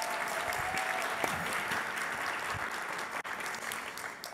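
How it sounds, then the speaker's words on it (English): Audience applause fills a ballroom at an education summit lunch, a dense, steady round of clapping from a large crowd that holds at an even level throughout, with a faint tone and a brief dip near the end. "Can we get a round of applause for those districts?"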